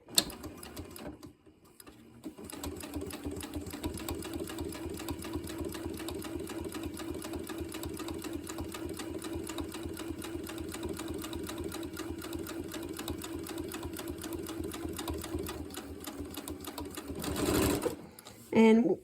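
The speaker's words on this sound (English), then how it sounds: "So you'll just keep feeding those through until you get them all sewn together" A domestic sewing machine chain-stitching quilt fabric rectangles runs in a fast, even mechanical whirr close by for about fifteen seconds, stopping briefly near the end before restarting.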